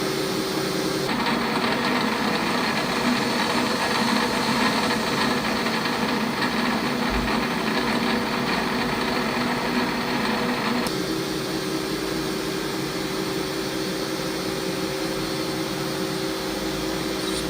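A metal lathe with an electronic leadscrew runs with its gears engaged to drive the feed screw, a steady whirring mechanical hum whose tone shifts slightly partway through, close and without speech.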